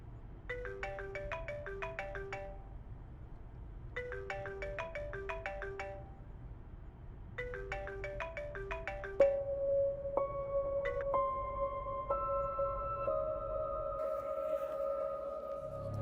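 A phone ringtone plays three repeated bursts of bright melodic beeps, then shifts into longer sustained tones, fairly faint and alone without speech.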